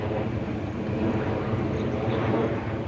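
A steady, broad jet roar of an airplane passing overhead fills the whole stretch without any break, moderately loud and constant.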